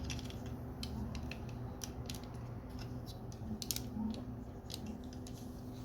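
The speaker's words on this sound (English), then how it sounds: "You have to swivel this out of that socket, bring it around, bring this up" Plastic joints of a Transformers Studio Series 86-30 Leader Class Springer toy clicking and ratcheting as it is swiveled and transformed, a scattering of small, close, faint clicks over a steady background hum.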